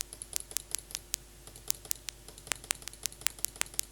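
Synthesized paper-crumple clicks made with the Vital VST synthesizer: a quiet run of sharp, dry ticks at an uneven, quick rhythm, varying slightly in strength, with no voices.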